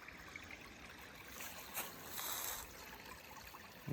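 A small trail-side stream pours steadily from its source, a soft, continuous splashing and trickling heard close up, with no talk over it.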